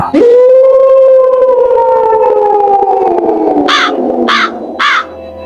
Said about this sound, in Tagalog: Ang mga aso sa buong baryo'y nag-uunahang umalulong.